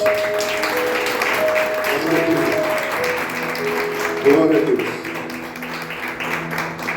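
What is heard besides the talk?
congregation applauding in church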